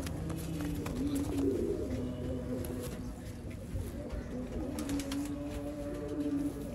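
Soft, repeated coos of black-faced Sialkoti pigeons rise and fall over a low background hum, faint and continuous.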